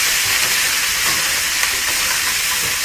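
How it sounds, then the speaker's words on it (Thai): Shark fish stir-fried in oil with curry paste sizzles loudly and steadily at close range, a constant bright hiss with slight stirring movement and no talk. "แล้วก็เอาปลาลงไปลวนในน้ำมันอีกทีนึง"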